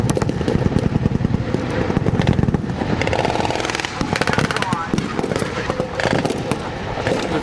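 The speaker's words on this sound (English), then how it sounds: "They haven't taken out that machine gun nest." Dense, continuous rattling machine gun fire at a D-Day re-enactment landing on a beach in Ohio, loud and steady throughout, with voices talking over the noise.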